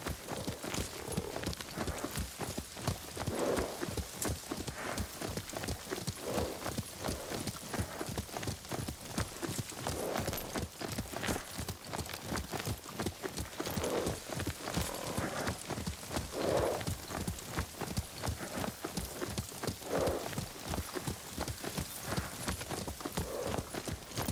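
Horse hooves clip-clop in a steady, fast rhythm close by in the video game Ghost of Tsushima, with a horse whinnying now and then over the continuous hoofbeats.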